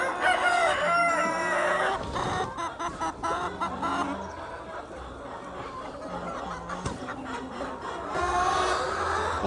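Morning on a chicken farm in Tarn Taran: hens cluck steadily and roosters crow loudly again and again, close and busy throughout, with a crowd of birds filling the air.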